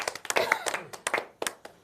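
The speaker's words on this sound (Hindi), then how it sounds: "एक बार हम फिर ताली बजा देते हैं" A small audience at a Holi poetry gathering gives sparse, irregular claps, a handful of close, distinct hand strikes scattered across a couple of seconds with a voice talking faintly underneath.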